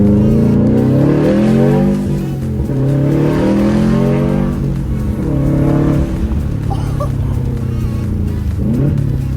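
A Subaru STI pulling away under throttle, its engine droning loudly and close with repeated rises in pitch through the gears, the note dropping briefly between shifts.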